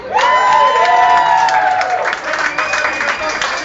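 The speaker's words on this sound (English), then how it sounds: "I want a big applause for the band" A rock cafe crowd claps and cheers for the band, the applause loud and sustained under a voice over the PA.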